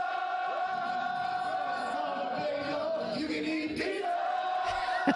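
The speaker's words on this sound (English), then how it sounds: "That's like a fucking soccer crowd." A large soccer-style crowd roars and chants continuously, a dense, loud swell of many voices with shouts rising above the din, heard played back from a recording.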